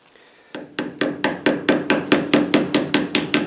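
Screwdriver tapped with a hammer to drive out a front pulley bearing clip on a Rover V8 engine: a steady series of about twelve sharp, evenly spaced metallic knocks, close and loud, with no voices.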